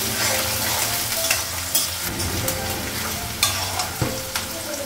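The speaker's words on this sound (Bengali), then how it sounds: "পেঁয়াজটা ভাজা হয়ে গেছে" Onions frying in a pan for a Bengali goat meat curry, with a steady sizzle under occasional stirring scrapes and clinks, close and moderately loud, with no talking.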